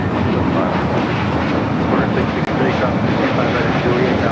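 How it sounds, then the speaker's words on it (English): A Spirit Airlines Airbus A321neo airliner takes off at LAX, a loud, continuous broadband engine roar heard close by for the whole short stretch, with a momentary dip near the middle. "That is Spirit Airlines 153 taking off to Houston Intercontinental on the A321neo"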